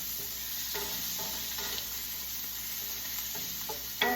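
Sausage pieces and garlic fry in a hot pan with a steady close sizzle, broken by a few light scraping stirs and a sharper knock at the end.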